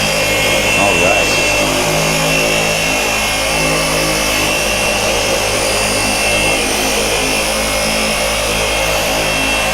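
A 50 mm dual action polisher runs steadily and loudly at an auto detailing trade show demonstration, a continuous buzzing whir with people talking beneath it.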